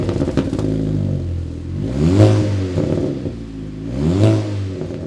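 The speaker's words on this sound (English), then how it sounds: "my favourite part is the custom exhaust system with the Miltech back box" A wrapped Audi A3 fitted with a custom Milltek back-box exhaust revs twice from idle, each blip rising into a sharp, loud bark and then falling back to a burbling idle, recorded up close.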